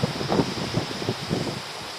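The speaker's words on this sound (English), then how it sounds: "the wind has now got right up" Strong wind gusts at sea around a lobster boat in autumn, buffeting the microphone with a steady rushing roar and rhythmic surges, with no voices.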